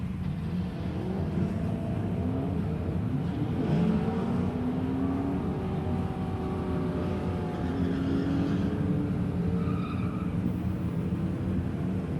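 Drag racing cars at a Wednesday night drag strip event, heard from a distance as a continuous engine roar with rising and falling revs, fairly faint and without talk.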